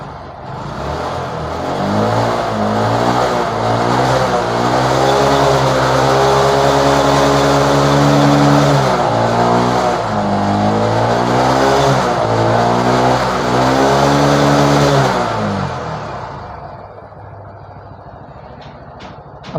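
A TVS XL100 BS6 moped engine running after starting, revving up in long rising and falling sweeps for about fifteen seconds, loud and close, before dropping back to a quieter idle.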